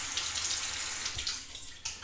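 Hot water runs steadily from a tap over a shaving brush, a continuous close hiss and splash with a brief disturbance near the end.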